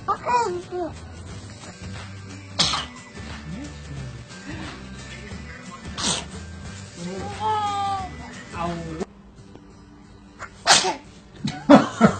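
A small child sneezes several times, giving sharp, loud bursts spread across the stretch, while adults talk and coo around the child in between.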